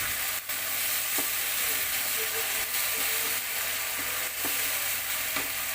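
Homemade chili garlic sauce with lemon being mixed in a pan: a constant bubbling sizzle with regular spoon scrapes and clinks close by, no talking.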